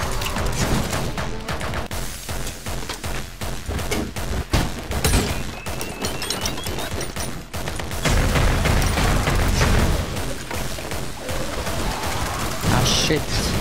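Rapid bursts of gunfire and booming impacts crackle through frantic action in the first-person shooter Anger Foot, dense and loud throughout with someone talking over it.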